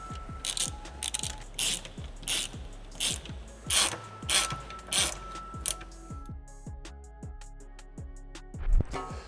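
Bolts are threaded in to start mounting heavy-duty bolt-on skid plates on a Rivian R1T or R1S. A ratchet clicks in repeated close bursts, each followed by a short pause, and a louder clunk comes near the end.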